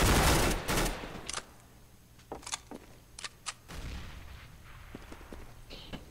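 Decoy grenade in Counter-Strike: Global Offensive popping off fake gunfire, a loud burst of shots at the start followed by scattered sharp cracks and a second burst, alone with no talk.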